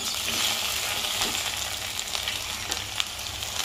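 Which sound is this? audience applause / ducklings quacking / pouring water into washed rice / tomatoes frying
tomatoes frying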